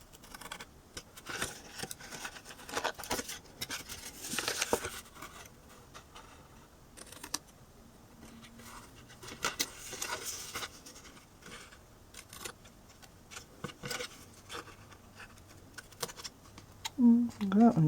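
Scissors trim paper for a small handmade chapstick box, with short, close, crisp snips and clicks in scattered bursts and quiet gaps, then a faint voice near the end.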